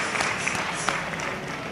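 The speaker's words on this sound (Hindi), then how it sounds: "जरा तालियां बजाकर उनका भी अभिनंदन करें।" Audience applauding at a live Shiv Mahapuran katha religious gathering in Jalgaon, Maharashtra, a dense, steady wash of clapping from a large crowd held at even loudness throughout.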